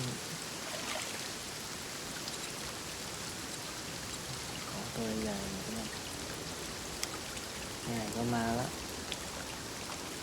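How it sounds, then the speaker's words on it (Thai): Steady, even rain falls in a PC multiplayer fishing video game, a constant close hiss running through the whole stretch while people talk briefly over it. "ฝนก็ตก"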